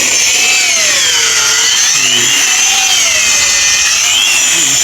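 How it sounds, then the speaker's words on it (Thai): A power drill bores into wood to fit bolts, a loud, close, continuous grinding whine whose pitch wavers up and down as the bit bites, with no pauses and no voices. "เพิ่นกำลังเจาะกำลังสิใส่น็อตยึด"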